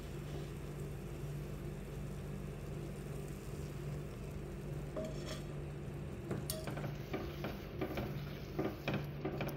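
Pumpkin and cowpea being stirred in a cooking pot with jaggery syrup for erissery pradhaman, a faint steady scraping and swishing over low background hum, with a few sharper utensil clicks near the end.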